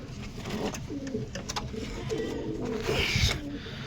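Pet pigeons in a home loft coo repeatedly at close range, soft throaty rolling calls in short bursts over a faint background rustle.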